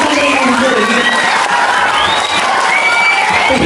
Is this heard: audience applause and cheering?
yes